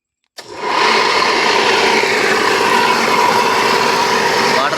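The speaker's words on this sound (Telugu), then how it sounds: "ఒకసారి మోటార్ ఆన్ చేయి" A monoblock motor pump with a failed oil seal switches on after a moment of silence and settles into a loud, steady whirring hum with a sustained high tone, running alone and close.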